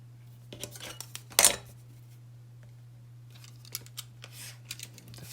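Scissors snipping paper strips off a handmade pop-up card, a few crisp close cuts with one loud sharp snip early on, then lighter clicks and rustles over a low steady electrical hum.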